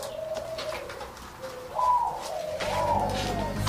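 A medium-sized toucan kept as a pet bird gives a series of hoarse, cooing calls, repeated in short rising phrases at close range, with no talk over it.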